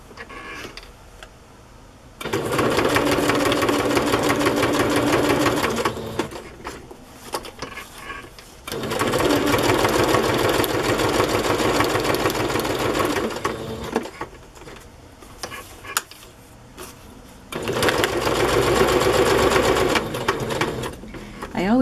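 A sewing machine stitches pockets for a cookbook journal as the bobbin runs low, with three loud, steady runs of rapid mechanical whirring and clatter separated by quieter pauses.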